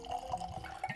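Joseph Magnus Cigar Blend bourbon being poured into a glass, a brief soft trickle and splash heard close and quiet, with no talking.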